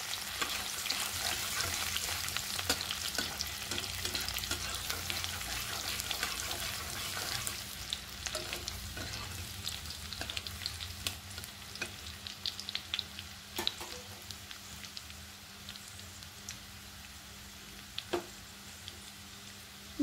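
Chopped garlic frying gently in used pakora oil, a continuous close sizzle with scattered pops and the clink and scrape of stirring, fairly quiet and without any voices.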